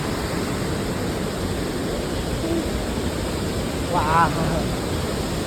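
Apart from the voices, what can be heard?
water rushing over old Wawa dam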